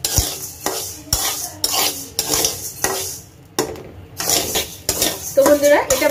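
A metal spoon repeatedly scrapes and knocks around a pan as rice is dry-fried for chatu, rhythmic strokes with short pauses between, a faint sizzle underneath, close and fairly loud, no talk.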